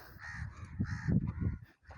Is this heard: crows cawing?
yes